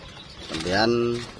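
A zebra dove (perkutut) coos softly in a short, rolling phrase, with faint background noise and murmuring around it.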